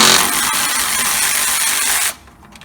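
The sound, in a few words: tightening a bolt on 1977 Ford F150 spring shackle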